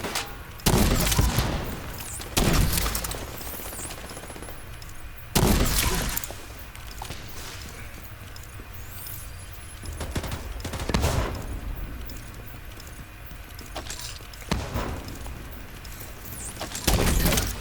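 Sniper rifle gunfire in the Distric Union arena video game, loud sharp shots repeating at irregular intervals of a few seconds over a steady background of game ambience.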